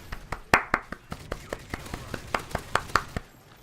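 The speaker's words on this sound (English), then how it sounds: "That was just a round of applause" A round of applause of sharp, evenly spaced claps, fairly quiet and steady across the few seconds, with no voices over it.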